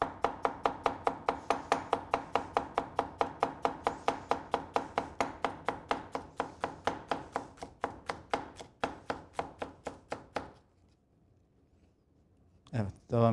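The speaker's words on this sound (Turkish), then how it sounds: "Aynı şekilde biberlerimizi doğramaya." Red peppers are chopped with a knife on a board in a kitchen, a steady fast rhythm of crisp taps for about ten seconds, then a pause and a few more strokes at the end.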